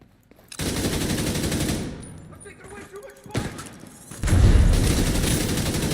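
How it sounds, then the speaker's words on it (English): A sniper turret and heavy gunfire sound off in The Division 2, with dense bursts of shots, a quieter gap with scattered pops, then a loud, booming volley that runs to the end, while a voice talks over part of it. "Oh, that's a sniper turret right there."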